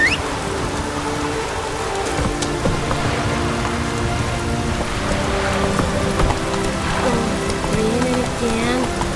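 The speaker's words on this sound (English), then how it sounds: "Raining again." Rain patters steadily on surfaces in a video game, mixed with soft horse hoofbeats and low ambient sounds.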